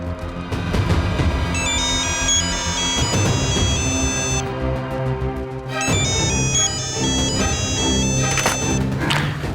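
A bright electronic ringtone melody plays loudly and repeatedly over busy background music and sound effects, with no talking.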